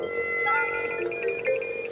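Electronic beeping from a metal detector in a TV comedy scene, steady tonal pulses with bright harmonics repeating rapidly and loud, alone without voices.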